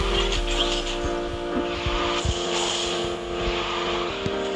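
Car drifting in the mobile racing game QQ Speed, an engine drone with a steady held tone and light tire scrubbing at near-constant loudness, backed by layered game music, with no talk.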